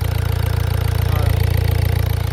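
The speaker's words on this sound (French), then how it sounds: "le moteur il tourne nickel" A 1.6 HDi diesel car engine idles close by after a loose injector was fixed. Its loud, steady, evenly pulsing low rumble keeps a regular rhythm with no speech.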